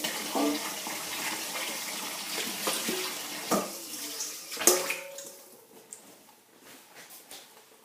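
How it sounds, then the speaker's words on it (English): Tap water runs into a mixing bowl and splashes as it is rinsed out during cheesecake making, with a clatter and knocks of the bowl, then the flow fades away. A voice speaks faintly underneath. "I'm going to use the same bowl, so I'm just going to rinse that out a minute."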